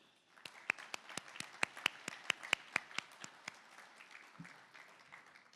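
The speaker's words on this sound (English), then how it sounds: "give our SME community a round of applause for that" Scattered hand claps ring out in a quick, uneven burst that peaks and then thins out, sounding like a small audience applauding in a room during a keynote at an SME summit.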